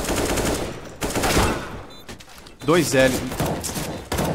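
Rapid bursts of automatic rifle fire in a competitive online shooter match, sharp rattling volleys separated by brief gaps, with a player talking over the shooting.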